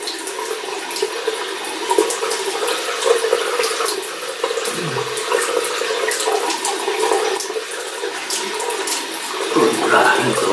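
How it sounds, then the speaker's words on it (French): Hands are rinsed under a running tap, giving a steady, close stream of splashing water that continues throughout. "je me rince les mains et j'attends"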